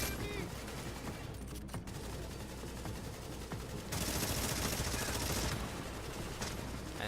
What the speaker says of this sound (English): But even aiming the weapon, despite, not using the hip fire bonus, the thing still shreds.